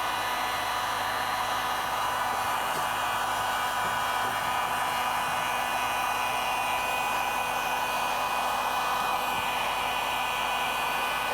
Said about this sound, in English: We'll continue on with our heat gun, heat it up, continue forcing it on